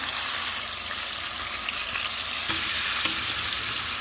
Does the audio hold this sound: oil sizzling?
yes